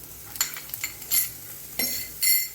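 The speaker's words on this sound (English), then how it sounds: "once the onion has turned transparent, I am adding all the vegetables" Carrot, capsicum, green beans and other vegetables stirred into onion frying in a pan for ragi soup, with several short scraping and clinking stirs over a soft sizzle, close and moderately loud.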